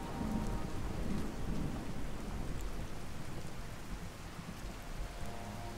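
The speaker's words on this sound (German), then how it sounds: "Oh, jetzt fängt es ja an zu regnen und zu gewittern." Steady heavy rain with thunder rumbling through a thunderstorm in Fallout 4, a continuous loud wash of rainfall filling the scene without any speech.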